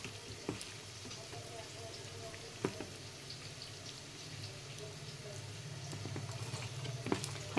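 Chicken coated in garlic paste, turmeric and chili powder cooks in a pan, a soft steady sizzle with scattered pops and pattering crackles, fairly quiet and close.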